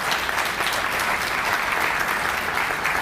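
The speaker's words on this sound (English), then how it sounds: "one more little round of applause for that group" An audience at a community celebration gives a sustained round of applause, dense even clapping filling the room without any voices over it.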